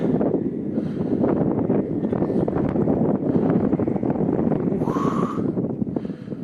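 Steady wind buffeting a microphone at a river crossing in Yakutsk, a continuous broadband rumble with no pauses, loud and close throughout.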